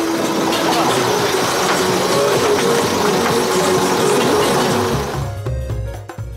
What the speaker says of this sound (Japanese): 昔風のエンジンです。